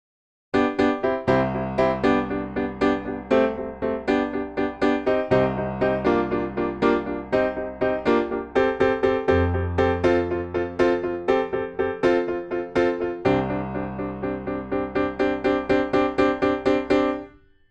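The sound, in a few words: piano playing song intro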